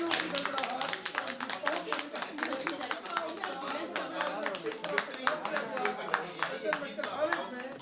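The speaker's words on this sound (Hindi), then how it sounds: "तालियों की गड़गड़ाहट" People gathered at a medical college in Agra during a vaccination drive clap in rapid, scattered claps that run steadily beneath ongoing talk, moderately quiet throughout.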